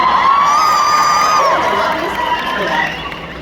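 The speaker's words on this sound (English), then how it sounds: "It's the strangest applause line" Audience cheering and whooping from a convention panel crowd at a pop-culture expo, loud and sustained, with shouts rising over a steady roar that eases slightly toward the end.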